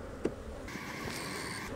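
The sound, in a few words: honey bees buzzing at an opened hive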